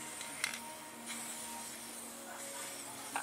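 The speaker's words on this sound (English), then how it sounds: "So we'll start at the back, just give it a nice spray over like so." A soft, steady hiss of aerosol spray paint coating a classic car wheel runs throughout, broken by a few faint clicks and knocks, quiet and close.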